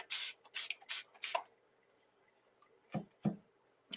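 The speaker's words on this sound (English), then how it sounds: "Could even spray it if you don't want to," Four quick bursts of fine water mist from a spray bottle onto a watercolor painting, followed after a pause by two softer, duller squirts; quiet and close.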